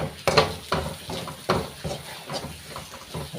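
A spoon stirs ground spices, including cumin and turmeric powder, in a cooking pan, with soft rhythmic scraping and light clinks against the metal at close range, fairly quiet.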